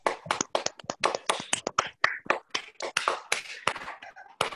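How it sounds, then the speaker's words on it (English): Scattered, uneven hand claps from participants in an online Toastmasters club meeting, a round of applause with sharp separate slaps rather than a dense roar, continuing steadily throughout. "Can we all have a huge round of applause for our outgoing XCOM January to July 2020?"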